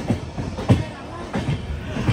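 Train hauled by three diesel locomotives on a ghat line during monsoon rain, rumbling with a rhythmic clatter of wheels over rail joints, several heavier thumps recurring steadily and close by.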